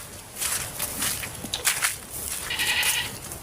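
Goat bleating in bursts outdoors on the way to a church, with footsteps and ambient noise; several bleats run close together at moderate volume, no talk.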